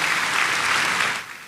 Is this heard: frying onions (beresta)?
no